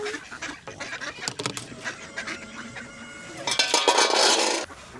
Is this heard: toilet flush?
no